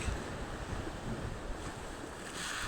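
Sea waves on the beach at Hua Hin wash in as a steady, broad roar, with gusting wind noise on the microphone and no voices.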